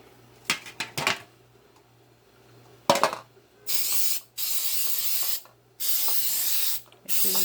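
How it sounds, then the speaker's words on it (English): Butter cooking spray hisses onto an aluminum pan in four bursts of about a second each. The bursts come close together, and a few metallic clinks of the can and pan come just before them. "I'm going to use some butter cooking spray."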